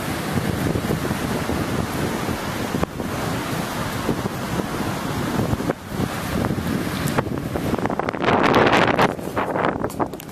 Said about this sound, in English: That's the ocean, Pacific right there.